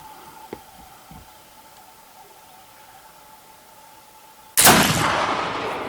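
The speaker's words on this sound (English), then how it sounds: "Third shot with 90 grains" A single loud, sharp blast from a Kibler Woodsrunner rifle fired with a 90-grain powder load, preceded by a few faint clicks and quiet ambience, its report decaying over the following second.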